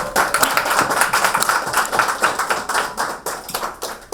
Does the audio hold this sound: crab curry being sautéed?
no